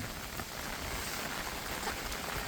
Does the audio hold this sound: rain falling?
yes